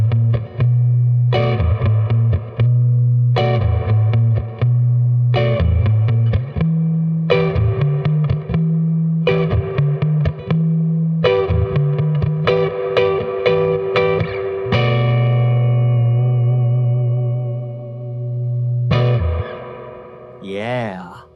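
Distorted electric guitar chords from a Jazzmaster on its rhythm circuit, strummed in a choppy rhythmic pattern, ringing out at the end, loud and alone with a bit of effect coloring.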